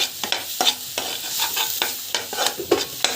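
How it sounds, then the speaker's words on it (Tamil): Paneer butter masala sautéing in a pan with chilli powder and asafoetida, a continuous hiss of frying broken by repeated spoon scrapes and stirs, close and alone with no talk. "நல்லா வந்து வதக்கிட்டுக்கணும்."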